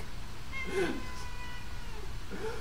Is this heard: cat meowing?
yes